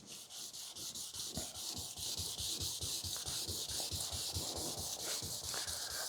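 Hand sanding of the clear coat on a 1940 Ford-inspired hardtop coupe, following 2000 grit, moving in one direction with steady rhythmic rubbing strokes about three per second, close and alone.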